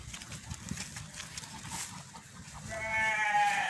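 A single Garut sheep gives one clear bleat near the end, after a stretch of faint, rustling farm background noise.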